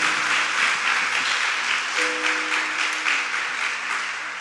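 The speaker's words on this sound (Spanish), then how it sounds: "Ahí va un aplauso también." Church conference audience applauding continuously and fairly loudly at a 2022 forum with pastors, a dense steady wash of many hands with a faint tone in the background.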